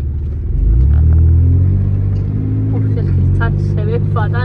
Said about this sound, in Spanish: Eso es tráfico. Para los que vienen de la autovía.